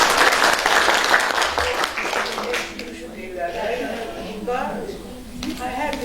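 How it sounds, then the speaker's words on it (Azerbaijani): An audience applauds a girl who has just sung at a talent academy event in Gadabay, with dense clapping strongest at first, then thinning as a voice speaks over the fading applause. "Gəlin o qızımızı alqışlayaq."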